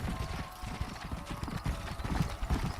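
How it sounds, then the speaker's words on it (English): Horses gallop in a herd in the Red Dead Redemption video game, with steady overlapping clip-clop hoofbeats close by and a faint whinny, no talk over them. "we have to herd the horses, don't we? Return to the herd."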